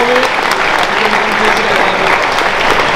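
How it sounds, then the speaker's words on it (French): Sustained, loud crowd clapping at a boxing tournament, an even wash of many hands with no pauses. "Les applaudissements s'il vous plaît"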